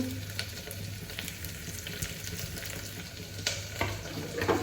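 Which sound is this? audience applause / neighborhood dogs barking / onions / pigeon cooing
onions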